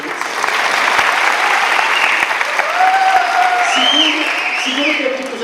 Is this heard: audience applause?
yes